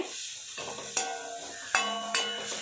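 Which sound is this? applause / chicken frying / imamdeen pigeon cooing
chicken frying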